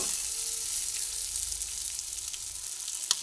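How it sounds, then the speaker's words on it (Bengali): Gobindobhog rice and potatoes fry in a pan for a cucumber curry, sizzling steadily and close, with one brief clatter of stirring near the end. "একসঙ্গে দিয়ে ভেজে নিলাম।"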